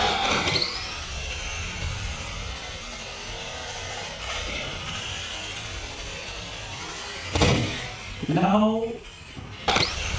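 An Arrma Outcast 4S V2 RC truck bashing at a skatepark: steady motor whine and tire noise, then two sharp thuds of a hard landing near the end, with someone talking over parts of it.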